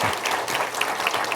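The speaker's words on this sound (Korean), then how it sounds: "마지막 큰 박수 한번 부탁드리겠습니다" A brief burst of audience applause at a Seoul city council policy forum on childcare integration, with dense clapping held at a steady level.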